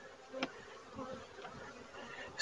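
Honey bees buzzing around an open hive during an inspection, a faint continuous hum with a few louder passes close by.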